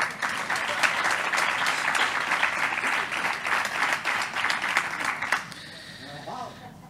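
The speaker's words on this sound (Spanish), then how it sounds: "Vamos a darle un aplauso aunque no esté." Audience applause at a civil protection recognition ceremony, dense clapping that holds for about five seconds and then quickly dies away into quiet murmur.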